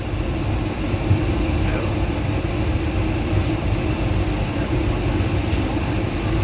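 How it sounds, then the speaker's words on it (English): A train pulling out of Indore Junction sends a steady, broad rumble and hiss of rolling wagons, continuous and fairly loud, with faint squeals and background activity mixed in. "So enjoy the departure from Indore Junction."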